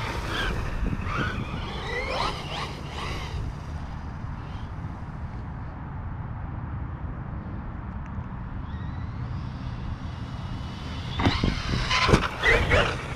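A LOSI Lasernut RC truck drives and takes jumps outdoors, its electric motor giving a rough, steady whine with scuffing and bursts of louder revving and impacts near the end, moderately close.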